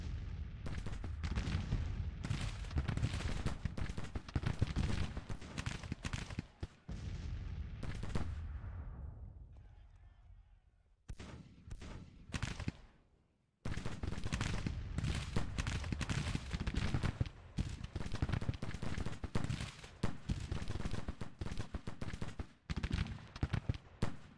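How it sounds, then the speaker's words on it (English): Dense Civil War-era artillery and musket fire in a strategy game battle, a continuous rumbling barrage of overlapping booms and cracks that briefly thins out, then resumes at full, steady intensity. "we'll let the artillery do some damage"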